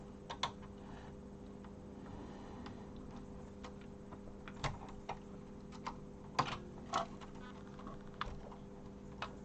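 Clicks and taps from a BBC Micro Model B keyboard being fitted back into its case and connector, scattered irregular knocks over a steady electrical hum, close and fairly quiet, no talk.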